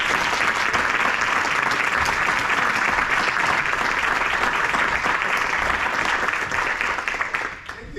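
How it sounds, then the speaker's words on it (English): An audience of community college students at Des Moines Area Community College applauds for poet Ross Gay, a dense, loud, sustained round of clapping that holds steady before tapering off at the end. "let's give him a round of applause"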